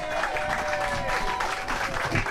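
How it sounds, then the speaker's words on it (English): Warm audience applause welcoming jazz musicians at a home concert, a steady wash of clapping from a modest crowd, continuous and fairly close. "please give a big warm round of applause to John and Nicole and friends"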